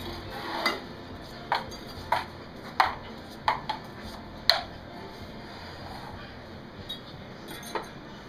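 A spoon stirs a jello shot mixture with cold vodka in a bowl, giving a series of sharp clinks against the bowl at irregular intervals, close and fairly loud over a quiet background.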